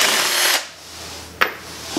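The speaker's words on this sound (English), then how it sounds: "Use this tiny little ratchet with a hammer fist action." A tiny ratchet on a Honda GX270 or Predator 301cc go-kart engine is struck with a hammer-fist blow: a close, harsh burst of clicking and grinding, then two sharp metallic knocks in a quiet workshop.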